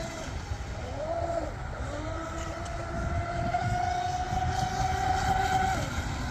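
A Miss Geico model racing boat running on 4S power gives a continuous high electric whine that rises and shifts in pitch as it speeds up, over steady water noise, with no talking.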